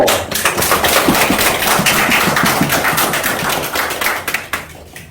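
Clapping at a Presbyterian pastor's ordination service, crisp individual claps in an uneven rhythm from a modest gathering, close and fairly loud before tapering off at the end.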